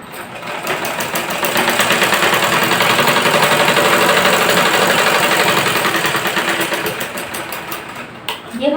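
Sewing machine running a folded 2.5-inch fabric strip through for a ladies' pant, a fast even mechanical whir that rises and holds steady before tapering off, close and loud.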